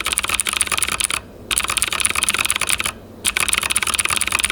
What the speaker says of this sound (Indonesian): untuk yang varian blue switch, kurang lebih untuk sampel suaranya tuh kayak gini nih.